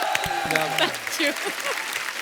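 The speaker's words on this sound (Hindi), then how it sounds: "इनके लिए जोरदार ताली हो जाए" Studio audience at a comedy show clapping for actress Taapsee, a short burst of applause with music-like tonal sounds and a voice woven through it.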